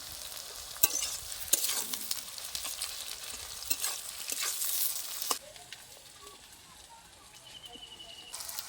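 Onions and a few mango leaves fry in hot oil for a Bengali chicken curry, a close, bright sizzle with scraping stirs that quiets partway through to a softer crackle.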